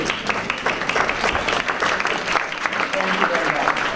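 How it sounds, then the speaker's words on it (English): Audience applause at a dyslexia empowerment talk as parents of dyslexics stand, dense sustained clapping from a crowd, steady and fairly close throughout with faint voices mixed in. "would you please stand up and we'll give you a round of applause"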